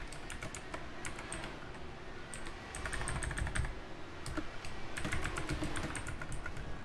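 Steady typing on a computer keyboard at an iRacing sim rig, rapid irregular key clicks running continuously at moderate loudness with no voices.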